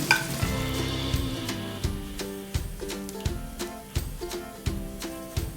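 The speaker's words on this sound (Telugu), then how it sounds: "కరివేపాకు కూడా కొంచెం ఫ్రై అయిన తర్వాత పసుపు వేసుకుందాం" Curry leaves fry in hot oil for a bitter gourd curry, a close continuous sizzle punctuated by regular scraping stirs of a spatula against the pan.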